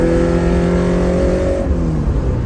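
Toyota AE86 with a 4A-GE 20V engine revving hard while driving, a loud, close, high-pitched engine scream that holds steady and then drops in pitch as it shifts or lets off.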